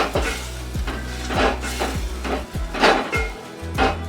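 Spice masala frying in a little oil for a home-style rasam, with a steady sizzle broken by repeated scraping stirs and clinks of a utensil against the pan, close and continuous.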